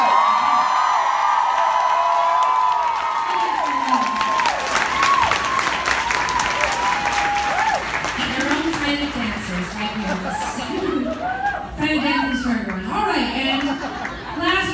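A Nashville concert crowd applauds and cheers loudly for a band member being introduced, dense clapping with whoops that thins out over time while people talk and chatter through it.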